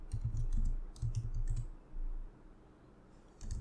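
Computer keyboard typing while code is written for a React form component, soft close clicks in short irregular bursts with brief gaps, faint and alone over a low background hum.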